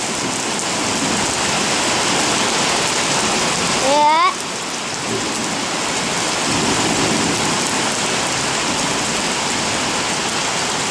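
Hail storm with hailstones pelting the ground, a dense constant rattle and hiss throughout, broken briefly by a short rising whistle-like tone and a quick spoken word near the middle.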